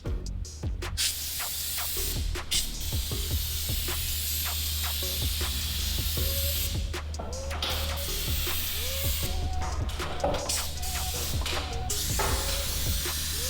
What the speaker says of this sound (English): get up there and spray some lubricant in the spring